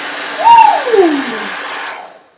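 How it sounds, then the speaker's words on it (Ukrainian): A hair dryer blows hot air, a loud, close whooshing roar with a whining tone that rises and then drops in pitch before the motor winds down and stops. "бо фен дує гарячим, правда?"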